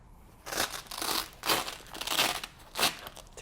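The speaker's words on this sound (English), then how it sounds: "Take the Velcro off, peel it around" A Velcro strap peeled back on a DR Leaf Vac during assembly, giving several close, loud rasping tears in short bursts with brief pauses between them.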